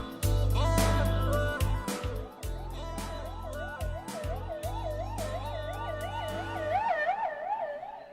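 A wailing siren rises and falls in quick cycles, strong and close, with a deep engine drone and other effects under it, in a film scene.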